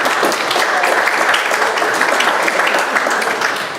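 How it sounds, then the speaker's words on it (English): A town hall audience for Senator Ron Wyden breaks into a big round of applause, loud, dense and sustained, tapering slightly at the very end. "Let's give them a big round of applause"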